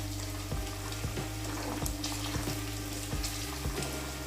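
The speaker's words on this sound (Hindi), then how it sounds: "गैस हाई फ्लेम पे करते हैं और इसको भी फ्राई कर लेते हैं।" Chopped green chillies fry in hot oil over a high flame, giving a steady close sizzle broken by regular stirring knocks, with no talk.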